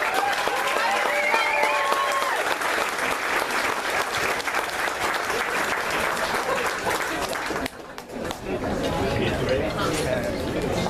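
A crowd at a Collin County Democratic Party event for Beto applauds loudly and continuously, with voices chattering and a few cheers mixed in; the clapping dips briefly near the end before picking back up.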